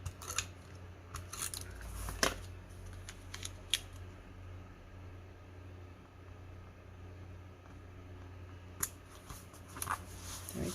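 Scissors snip designer series paper and vellum during card making, with a few quiet, sharp clicks in short clusters near the start and again near the end over a soft room hum.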